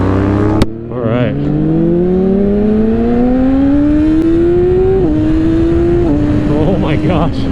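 A Yamaha R6 sport bike accelerating hard, its engine note climbing steadily through the gears with quick shifter changes marked by brief dips, loud and close over constant wind noise, with voices briefly audible.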